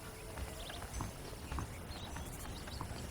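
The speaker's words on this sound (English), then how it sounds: "The horses are saddled up over here." Horse hooves clip-clop at a steady walking pace in the Western video game Red Dead Redemption, the repeated thuds fairly close over a continuous outdoor ambience, with no talk.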